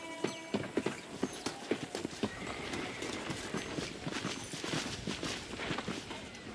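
Horse hooves in the Red Dead Redemption video game, a steady run of clip-clop hoofbeats that starts crisp and distinct, then blurs into a faster, busier trot under a low background rumble.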